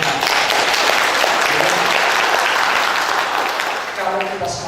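Staff of a regional public hospital applaud at a religious gathering in Indonesia, loud, dense clapping that stays steady for several seconds before tapering near the end, with some voices beneath.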